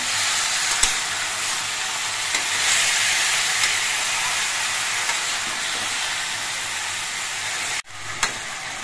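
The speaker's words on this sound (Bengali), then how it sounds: "পুঁই শাক দিয়ে আমি নেড়ে তেলে মিশিয়ে নিয়েছি" Malabar spinach being stirred and fried in oil in a home kitchen gives a steady, loud sizzle and hiss, with a brief clatter near the end.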